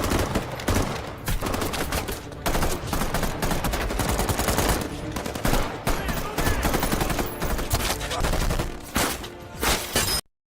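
A gunfight erupts between a SWAT team and armed robbers, with dense, continuous bursts of gunfire and rapid shots crowding together loudly for about ten seconds before cutting off.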